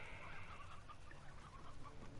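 Chickens cluck quietly in a video game about slimes that eat chickens, a soft, continuous stream of overlapping clucks and murmurs with no talking.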